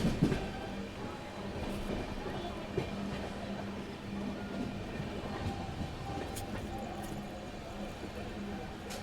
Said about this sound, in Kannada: ರೆಡಿ ಐತೆ ನೋಡ್ರಿ ಇಲ್ಲಿ ನಾ ಬಂದಂಥ ಟ್ರೈನ್.